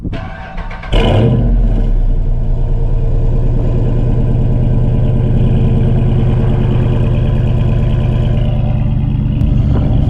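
A Dodge Charger RT V8 starts with a sudden loud bark after about a second of quiet, then settles into a steady, deep, lumpy idle that runs on, close and without talk.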